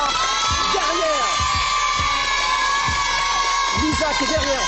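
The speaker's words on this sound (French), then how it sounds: "qu'on applaudit bien fort" A television studio audience cheering and clapping for a performer, a dense continuous roar of crowd noise with whoops and shouts, loud and sustained throughout.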